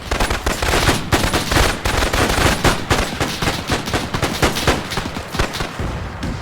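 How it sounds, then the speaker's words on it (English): Arma 3 military battle: loud, rapid bursts of automatic gunfire with overlapping single shots crackle continuously in a dense, rhythmic exchange, with no talk. "they're shooting back and forth in the smoke"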